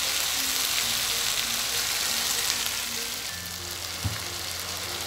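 Chicken sautés in a pan with a dense, constant sizzle that fades slightly partway through, and a single soft knock is heard near the end.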